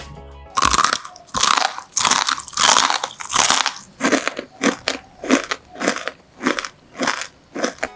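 Repeated loud, close crunchy bites into super-crispy fried bakwan jagung corn fritters made with Indomie noodles, about a dozen sharp crackling bites in a steady rhythm with no talk.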